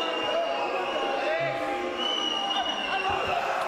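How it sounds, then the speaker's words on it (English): Crowd at a kickboxing fight between Karzewicz and Burtilla voicing disapproval, a steady dense murmur with scattered shouts and whistles filling the hall throughout. "Disapproving crowd here."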